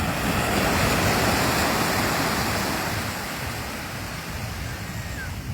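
Sea waves roaring steadily onto the shore, a broad, continuous wash of surf that swells early and eases slightly toward the end, heard alone without voices.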